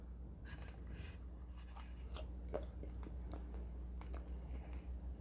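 Close, soft chewing of a bite of keto chicken crust pizza, with irregular moist crunches and clicks over a quiet background hum.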